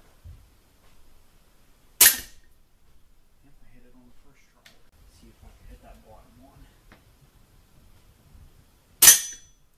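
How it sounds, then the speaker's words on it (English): Two sharp pellet gun shots from a Crosman American Classic multi-pump air rifle, each with a metallic smack as the pellet strikes a hanging resetting target, about seven seconds apart, with faint background noise between. "I'm going to go with the Crossman American Classic Multi-Pump Pellet Gun."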